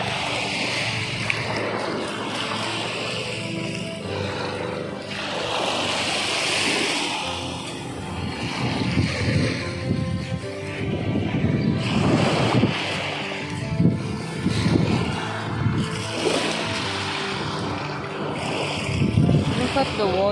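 Water washing along a beach with a dog playing nearby, a steady broad rush with gusts of wind noise on the microphone and no one speaking.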